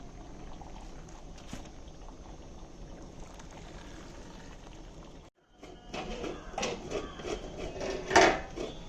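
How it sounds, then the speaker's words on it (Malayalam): Cooked rice for a Kerala sadhya feast is scooped from its pot into a basket, with wet sloshing, pouring and scraping rising after a brief pause, over steady kitchen background noise. "ഞാനിപ്പോൾ ഒരു കൊട്ടയ്ക്കകത്തോട്ടത് മാറ്റിക്കൊണ്ടിരിക്കുക"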